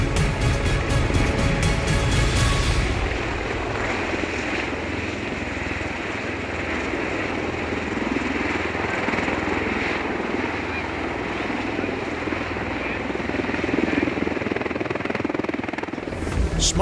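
V-22 Osprey tiltrotor aircraft flying over Miami Beach during a national salute to veterans, its rotor and engine noise a loud, steady roar throughout, with an early pulsing beat as it passes overhead.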